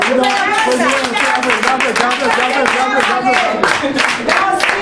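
A crowd at a Haitian political rally for Tèt Kale supporters claps steadily and densely throughout, with voices mixed in under the applause.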